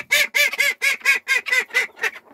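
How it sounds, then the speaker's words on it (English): Ducks in the coop loft give a rapid series of about nine loud, evenly spaced nasal honks, close by and without other sounds between calls. "the ducks just came in here and"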